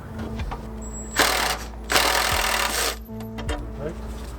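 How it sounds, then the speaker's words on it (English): A torque wrench loosening bolts on a Nissan S13, with two loud scraping, ratcheting bursts up close separated by brief pauses, over a low background hum. "Don't recommend using a torque wrench to loosen bolts, but it's what we got right now"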